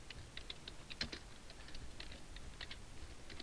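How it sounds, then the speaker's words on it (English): Typing on a computer keyboard while making a Word 2013 text box: a steady run of close, crisp key clicks over a low background hum, with no talking. "and I can type"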